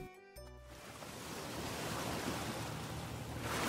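Ocean surf rolls in as a steady broadband wash, growing slightly louder toward the end, with no voices over it.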